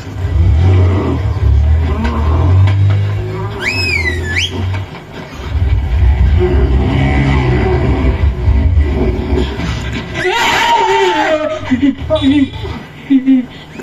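A vehicle engine rumbles and revs in bursts during a road-safety street play, mixed with voices and chuckles from performers and onlookers.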